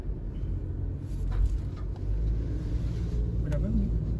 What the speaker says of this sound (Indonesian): Menanjak dengan mobil ini terasa effortless.